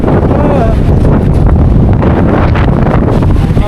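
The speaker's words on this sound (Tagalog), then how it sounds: "ngayon halo na malamig, lakas ng hangin, tapos snow eh no" Strong, cold wind roars steadily across the microphone at a ski resort in South Korea during snowfall, a continuous buffeting rush with no pauses, loud and close throughout.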